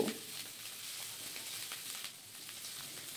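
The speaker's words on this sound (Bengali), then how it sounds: "গোটা জিরে ফোড়ন দিয়ে দিলাম। তার সাথে 3টে কাঁচা লঙ্কা, হাফ ইঞ্চি আদা। সব কিছুকে নেড়েচেড়ে নিয়ে 1 থেকে 2 মিনিটের জন্য একটু ভেজে নেব" Whole cumin seeds, three green chillies and half an inch of ginger fry in oil, giving a faint, even sizzling hiss that continues steadily with no talk.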